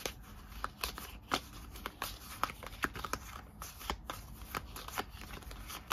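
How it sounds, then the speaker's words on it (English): Rapid riffling and soft flutter of playing cards being shuffled, repeated in quick bursts with light taps, close and fairly quiet, no talking. "I'm going to try to shuffle these the best I can"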